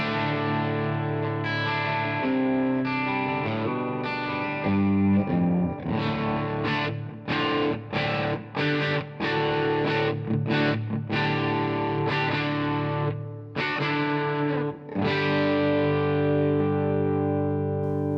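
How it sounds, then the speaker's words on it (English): An electric guitar through a Two Notes Torpedo Captor X loadbox with its twin tracker effect on, distorted doubled chords and riffs with choppy stops, loud and wide throughout. "Here we have the twin tracker. Let's hear how it opens up."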